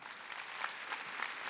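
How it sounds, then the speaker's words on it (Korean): Church congregation clapping during a Wednesday worship service, a quick burst of many hands with sharp individual claps standing out, fairly faint and short. "박수 치세요."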